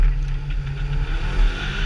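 A 1978 Volkswagen Golf GTI rally car drives a hairpin-laden mountain rally stage. The engine drones steadily with fluctuating revs, and road noise rushes alongside at moderate volume with no voices.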